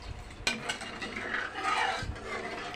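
Mango milk pudding mixture being stirred steadily in a pot on the stove, a soft continuous scraping and rubbing with a sharp utensil knock near the start.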